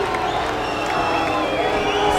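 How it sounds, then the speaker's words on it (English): Crowd at an MMA fight between Anderson Silva and Demian Maia, a steady roar of cheering and shouting from a large arena audience, loud and continuous with a commentator-like voice blended underneath. "And the crowd reacts"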